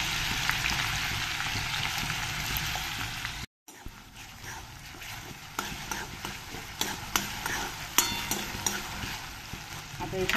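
Finely chopped onion frying with whole spices in oil makes a continuous close sizzle with a brief cut, then a crackling fry with scattered stirring clicks and pops.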